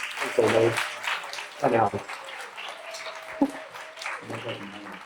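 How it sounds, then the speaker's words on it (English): An audience at a startup design AMA claps in a thin, steady patter that runs beneath a voice speaking in short bursts. "And a big round of applause for Randy as well."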